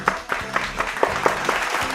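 A church congregation at a children's ministry Christmas service claps after a sermon, with distinct, separate hand claps coming at an uneven pace, moderately loud and slightly reverberant.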